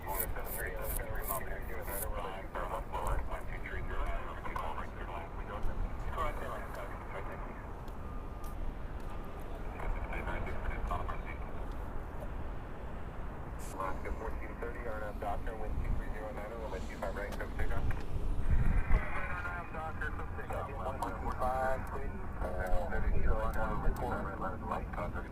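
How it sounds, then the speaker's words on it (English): Airliners landing at Los Angeles International Airport, heard from a burger restaurant nearby: a steady low jet rumble that swells toward the end, running under almost continuous talk. "you can sit and watch the planes come really close to you"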